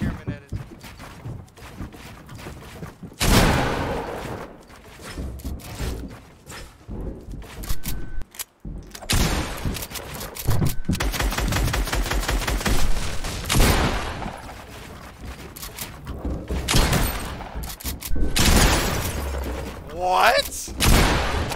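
Loud bursts of gunfire in a 1v1 video game match, with repeated rapid volleys and sharp impacts clustered throughout, and a player talking over the shooting.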